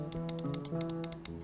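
Front side button on a Vaxee NP 01S gaming mouse being clicked repeatedly, a series of about eight crisp, close clicks at a steady rhythm over a faint constant background hum.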